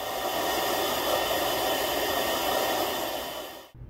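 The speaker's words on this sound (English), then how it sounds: "You can use your hairdryer to speed up the drying process." A hair dryer blowing to dry paint on a scale model, a loud steady rushing whoosh held close for several seconds before it cuts off abruptly.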